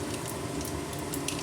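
Mustard and cumin seeds crackle and sizzle in hot cooking oil, a steady close frying hiss with no talk.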